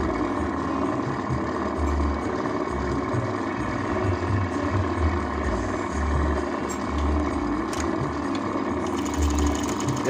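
A Simaru 781 sewing machine runs steadily at its slow speed setting, a continuous close mechanical whir with a rhythmic low pulsing throughout.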